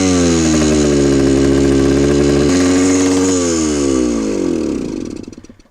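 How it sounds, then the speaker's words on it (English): A 1974 Honda MT250 motorcycle engine runs loud and close right after starting, a steady droning idle that shifts pitch midway, then fades as it winds down at the end. "if it starts up easily, I'll be really happy."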